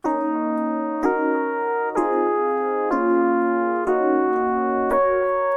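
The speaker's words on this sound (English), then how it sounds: "I actually have an electric piano phaser going." Electric piano through a phaser effect plays a slow, sustained, theremin-like intro. Warm held chords change about once per second, with a soft swirling shimmer and no talking.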